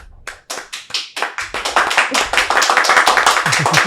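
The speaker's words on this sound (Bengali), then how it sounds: "একটু জোরে হাততালি হয়ে যাক বন্ধুগণ" Audience applause that opens with a few scattered claps and quickly builds into dense, sustained clapping from a crowd, close and loud.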